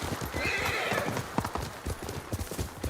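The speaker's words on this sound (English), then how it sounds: "There's a horse." Horse hooves clip-clop in a steady trotting rhythm while a horse whinnies in a video game, fairly close and clear with no talk over it.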